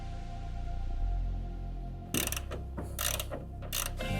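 A hand ratchet tightens bolts on a Hi-Lift jack bracket mounted on a 2023 Chevy Colorado ZR2 Desert Boss. Loud, close bursts of rapid clicking start partway in, over a low steady hum.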